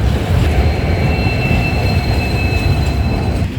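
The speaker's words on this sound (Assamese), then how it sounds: "এয়া ট্ৰেইন আহি পাল" A train arrives at New Bongaigaon station: steady, loud rumble of rolling wagons with a faint high wheel squeal running through, continuous and close for the whole stretch.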